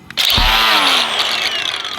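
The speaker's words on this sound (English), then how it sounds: "That's a brand new cutoff blade. It just cut in half." Power cutoff wheel grinding loudly into a buried metal garden pole, a sudden high whine with a ringing tone as the brand-new blade snaps, then a lingering whir as it spins down.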